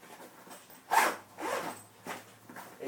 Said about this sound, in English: It's got some pretty thick zippers on it.